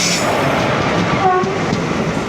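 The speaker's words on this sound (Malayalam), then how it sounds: "അനന്തപുരി എക്സ്പ്രസ്" The Ananthapuri Express pulls into Parassala station on the Thiruvananthapuram–Nagercoil line, a loud, steady rumble of rail wagons with a brief horn tone partway through, no voices.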